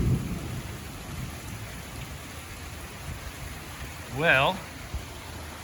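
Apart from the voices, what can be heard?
thunderstorm with rain near a creek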